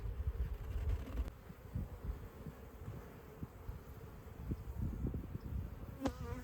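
Honeybees buzzing faintly around an open hive box as a nuc is transferred in, a soft fluctuating swarm hum with occasional wing bursts close by.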